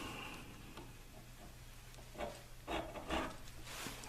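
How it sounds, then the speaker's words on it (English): A metal file rasps in short, uneven strokes along the edge of a long-range rifle target sight clamped in a vise, faint and close against a low steady hum, with no talk. "come in and file that edge down to my line"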